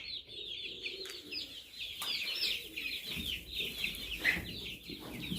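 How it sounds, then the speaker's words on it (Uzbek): A flock of 45-day-old Adler chicks, about fifty birds, clucking and chirping continuously at close range, a steady busy chatter of overlapping calls with occasional louder squawks. "Adler Cerebro jo'jalarimiz sotuvda."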